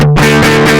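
Guitar played through a broken, distorting digital compressor set for a vintage rock tone, loud and saturated with a sustained, buzzy chord ringing continuously.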